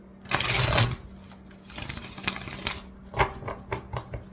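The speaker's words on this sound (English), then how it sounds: "And I always shuffle" Tarot cards are shuffled close up in quick riffling bursts with soft taps. No one speaks.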